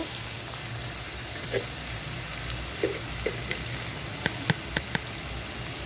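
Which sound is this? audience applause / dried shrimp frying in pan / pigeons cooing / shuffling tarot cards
dried shrimp frying in pan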